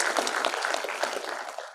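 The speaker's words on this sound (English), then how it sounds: "let's have a big round of applause for ISBS Media" Applause at the Indiapreneur 12.0 event at Indira Group of Institutes, Pune, for ISBS Media: a short burst of steady, fairly close clapping from an audience, with individual claps audible.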